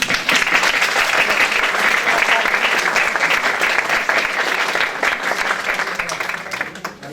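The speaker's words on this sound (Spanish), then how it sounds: "Un aplauso." A crowd claps steadily and loudly for several seconds, the applause dense and sustained, tapering slightly at the end.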